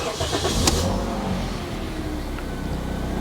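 A 2010 Toyota Yaris E engine turns over and catches close by, with a short starter burst near the start settling into a steady idle for the rest.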